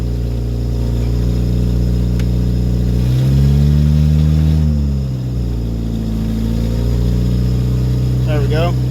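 A woodgas-powered Chevrolet Cavalier engine idling loud and steady as it warms up, with one throttle blip midway that raises the revs briefly before it settles back to a smooth idle.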